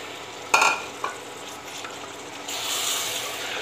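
Half a kilo of mutton with salt, fried onion and tomato is stirred in a pot: a sharp scrape and clatter at first, then a low frying hiss that swells into a louder, steady sizzle.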